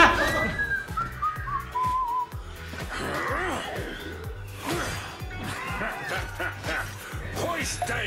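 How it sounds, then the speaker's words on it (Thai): Whistling from a person over background music and game sounds from the mobile game Arena of Valor (ROV), with rhythmic beats and a short rising whistle-like melody early on; voices mix in. "เรามีซะด้วยผิวปากให้ฟัง"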